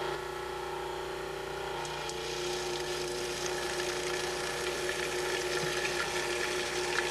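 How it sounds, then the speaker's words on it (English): A Cuisinart food processor whirs steadily at close range while oil, vinegar and other salad dressing ingredients are poured through the feed tube, a constant motor hum with liquid splashing over it. "add the oil, vinegar, and other dressing ingredients through this feed tube opening while the machine is running"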